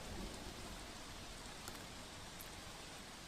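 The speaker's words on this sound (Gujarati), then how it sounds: "છોટાઉદેપુરના બોડેલીમાં છૂટોછવાયો વરસાદ વરસ્યો" Unseasonal rain falls steadily in Bodeli, Chhota Udepur, in a soft, even patter that stays faint and unbroken throughout.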